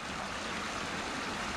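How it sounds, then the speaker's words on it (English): Creek water spilling over rocks in a small natural waterfall, a steady broadband rushing wash heard close and evenly throughout, with no voices. "made a perfect waterfall here too"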